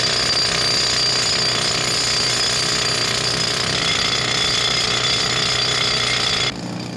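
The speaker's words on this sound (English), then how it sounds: "That was Éamonn drilling the holes." A pneumatic rock drill hammers holes into granite in a quarry, continuously and loudly in a dense rattling roar, cutting off abruptly just before the end.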